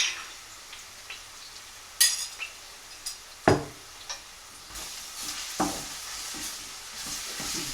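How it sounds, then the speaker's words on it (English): Ginger garlic paste fries with golden onions in a pan, giving a soft steady sizzle broken by sharp spoon scrapes and clinks against the metal as it is stirred. "I'm going to add ginger garlic paste to onions now"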